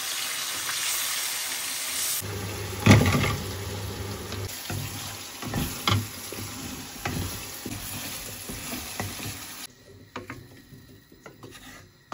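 Onion and spices frying together in a pan give a steady hiss and crackle, broken by a few scraping stirs and knocks of a spoon against the pan.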